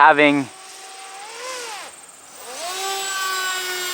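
An Eachine Fury Wing RC plane in flight, its propeller motor giving a thin whine that rises and dips in pitch as it passes, after a brief voice at the start.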